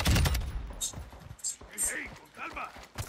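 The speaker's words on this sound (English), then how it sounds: "You are taking effective fire." Gunfire in Call of Duty Warzone, a burst of close shots at the start followed by scattered distant pops, heard under game radio voices and chatter.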